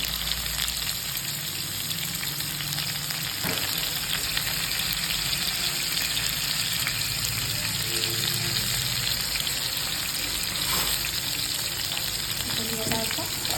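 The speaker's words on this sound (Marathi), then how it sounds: "आणि आता हे कारले टाकते गॅस कमी करते आणि कारले टाकते" Stuffed bitter gourds (karela) frying in hot oil in a pan over lowered gas, a steady loud crackling sizzle that runs unbroken throughout, with a few faint utensil clinks.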